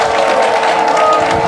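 Crowd applause at a devotional gathering during a book release, a brief, loud and continuous wash of clapping and cheering.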